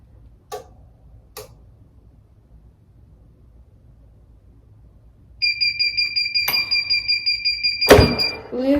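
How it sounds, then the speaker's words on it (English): A heat press sounds a loud, repeating electronic beep as its timer runs out, a rapid pulsing alarm that follows a few soft clicks and thuds of the press. "it's gonna make that loud beeping sound to remind us that it's up"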